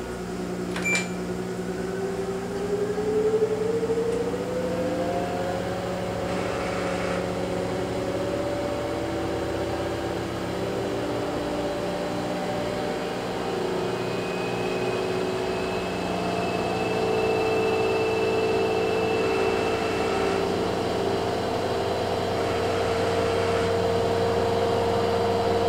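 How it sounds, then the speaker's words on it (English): Kenmore (LG) front-load washing machine ramping up into a high-speed 1200 RPM spin, a steady hum and whine whose pitch climbs, then settles into a continuous loud whir with a faint high tone, with no talking. "it's going to go into a high-speed 1200 RPM spin"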